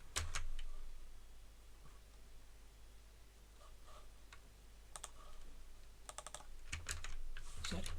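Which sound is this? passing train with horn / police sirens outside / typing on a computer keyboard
typing on a computer keyboard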